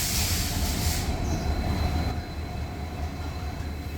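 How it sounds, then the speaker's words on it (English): Rajdhani Express train cars rumbling at a station during shunting, a steady low rolling drone with a faint metallic squeal, continuous and close with no voices. "Let's see when the train is now shunted"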